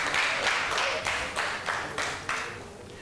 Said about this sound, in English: let's welcome our contestants from Villac International School with a round of applause